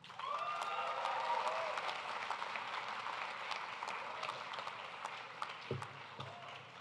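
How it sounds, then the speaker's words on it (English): An audience claps for graduates at a hooding ceremony, a sustained round of applause with scattered whoops, fairly distant and soft, fading slightly toward the end. "Please join me in another round of applause for all of our graduates."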